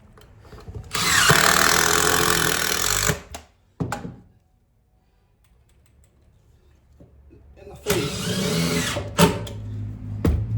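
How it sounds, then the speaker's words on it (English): A power drill drives a screw during an under-sink installation, with two loud, close whirring bursts of a few seconds each separated by a quiet pause and a few brief knocks. "And then we can just put a screw in."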